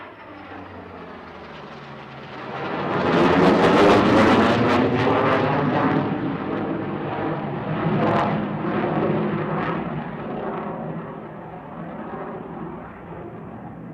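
Propeller and jet aircraft engines from a Corsair and a Super Hornet flying a Tailhook Legacy flight demonstration at the SUN 'n FUN Aerospace Expo airshow, a loud sustained roar that swells around four seconds in and then gradually fades.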